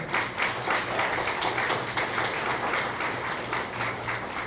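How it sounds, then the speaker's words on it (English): Audience applause at a healthcare fundraising campaign celebration, honoring volunteers and staff: many hands clapping in a steady, dense wash with a rhythmic pulse, moderately loud and continuous for the whole stretch. "Please give them a big round of applause"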